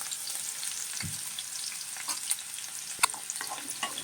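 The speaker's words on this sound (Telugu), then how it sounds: "ఉల్లిపాయలు కొంచెం పోసుకున్నాం కదండి, కొద్దిగా ఇదిగోండి వేసేసాను" Onions fry in hot oil for a prawn curry, a continuous close sizzle broken by scattered pops and a couple of sharper crackles, with no talking.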